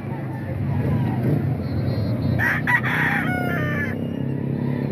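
Chickens at a roadside market in Baliwag, Bulacan, including yellow-legged, straight-combed birds on sale: a rooster crows loudly mid-clip over steady clucking and market hubbub, with people talking nearby.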